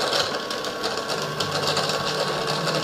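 Kitchen machine crushing five frozen bananas, a loud, steady whirring and grinding with a fast rhythmic rattle throughout, no talk.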